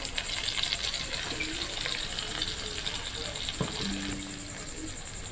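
Potatoes fry in a pan with a steady sizzle that stays constant throughout, joined by occasional clinks and stirring knocks from utensils against the pan.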